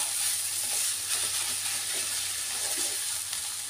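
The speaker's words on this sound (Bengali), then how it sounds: "আদাটা দিয়ে এখন মুলোটার সাথে কিছুক্ষণ আমি আদাটাকে ভেজে নেব।" Grated ginger and radish fry in a pan with a constant, even hiss of sizzling oil close by, with faint stirring scrapes and no talk over it.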